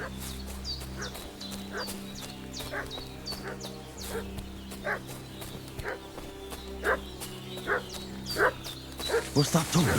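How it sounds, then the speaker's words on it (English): A dog in Kingdom Come Deliverance 2 barks repeatedly at a steady rhythm, moderately loud over a low ambient drone, with sharper barks near the end. "What's that dog making such a fuss about?"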